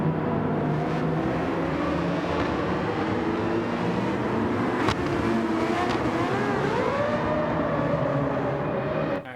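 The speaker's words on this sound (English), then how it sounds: "There was one car that really screams through that corner, that U-turn" In Gran Turismo 7, a race car engine screams at high revs, harmonics climbing and shifting as it accelerates through a U-turn corner, loud and continuous.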